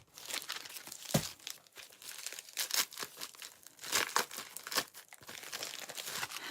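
Aluminum foil handled and crinkled up close: irregular bursts of crisp crackling and rustling, fairly quiet, with short pauses between handfuls and no voices.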